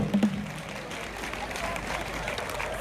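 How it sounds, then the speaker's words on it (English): Audience clapping at a school anniversary celebration for OKESS in Ghana, a broad steady wash of applause from a crowd, with a voice heard briefly at the start. "let's clap for them"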